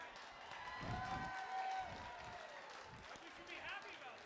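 An indoor audience at an evening glass-studio gathering claps steadily for about four seconds, a dense, continuous patter with cheering voices and talk mixed in.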